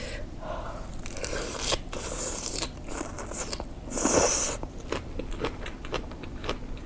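Crispy salad is bitten and crunched close up in a quiet room, with several short crunchy bursts spread through the clip and one louder, brighter crunch near the end.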